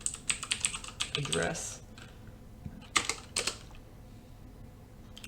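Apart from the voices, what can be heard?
typing commands on a computer keyboard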